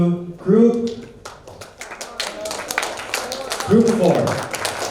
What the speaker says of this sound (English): please give applause to group